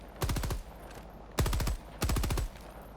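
Stalwart machine gun in Helldivers 2 rattles off three rapid bursts of automatic fire, each under half a second, close and loud, with short pauses between them.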